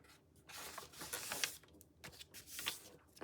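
Paper folded and creased by hand while making pockets for a book page, close-up with soft rustling, sliding and rubbing strokes in short bursts over about three seconds, no talking.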